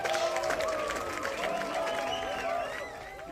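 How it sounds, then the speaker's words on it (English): Applause in the video game The Life and Suffering of Sir Brante, a dense crowd clapping and murmuring under music, fairly loud at first and then easing off near the end. "Every poem fills the room with loud applause."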